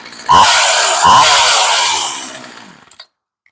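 A Poulan Pro chainsaw with a freshly rebuilt fuel system runs loud and close, its engine pitch rising in two revs before dropping back and cutting out into silence.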